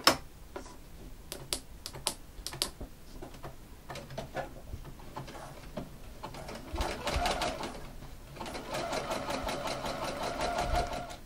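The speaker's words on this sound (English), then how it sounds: "if you wish you can just go to your machine and just do another, I think I'll go for a zigzag stitch on this one" Domestic sewing machine running a zigzag stitch along a stretch waistband, starting with a few short bursts and then settling into a longer steady whirring run that grows slightly louder toward the end.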